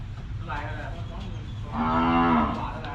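Lampang-line cattle at a busy cattle and buffalo market in Wang Prachop, Tak, Thailand, give a long, loud, close moo, with a few shorter lowing calls and faint market chatter around it.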